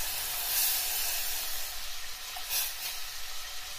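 Chicken broth poured into a hot pan for soup, a steady broad sizzle and hiss rising with steam, close and continuous with no talk.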